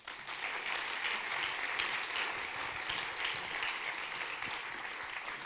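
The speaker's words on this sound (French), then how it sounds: "un tonnerre d'applaudissements pour ce très jeune artiste" Applause from an audience at Les Formidables 2022 ceremony greeting a very young performer, a continuous patter of clapping heard at a moderate distance and fairly soft throughout.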